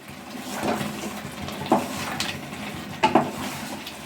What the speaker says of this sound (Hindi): तो यहाँ आपको लगातार चलाते हुए इसे भून लेना है।